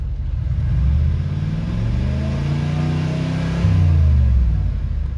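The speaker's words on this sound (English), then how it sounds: "I just revved it to 4000 RPM" A GM car engine revs up steadily to 4000 RPM, its pitch climbing and holding at a high, rumbling whine before rising again near the end.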